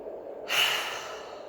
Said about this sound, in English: 2 deep breaths, please.